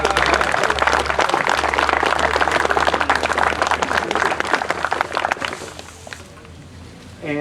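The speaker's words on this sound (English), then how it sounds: "let's give them a round of applause" Dense, loud outdoor applause from a crowd at a Veterans Day gathering in a city park, honoring ROTC groups, sustained for several seconds before thinning out and fading.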